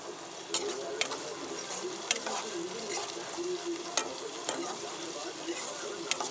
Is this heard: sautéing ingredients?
yes